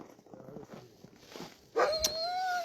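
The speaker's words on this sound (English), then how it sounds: "Dogs are getting TLC," Sled dogs by a dog truck on snow before the 2024 Copper Basin 300 race, with quiet shuffling and soft whimpers followed by a sudden loud, rising whine or yelp that holds on near the microphone.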